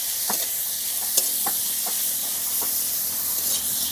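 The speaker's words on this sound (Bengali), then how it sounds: "পেঁয়াজ রসুনগুলো একটু ভালো করে আমি ভেজে নেব।" Onion and garlic fry in hot oil for a Bengali rohu fish curry with young brinjal, producing a loud, steady, close sizzle broken by several quick stirring scrapes.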